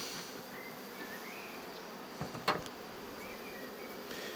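Honey bees buzz steadily at a hive, a dense continuous drone with individual bees passing close by, and a brief knock partway through.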